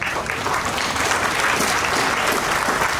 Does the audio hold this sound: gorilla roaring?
no